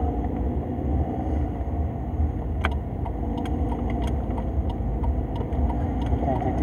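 Car interior on the road, a steady low engine and road rumble filling the cabin throughout, with a few light clicks and rattles near the middle and no talking.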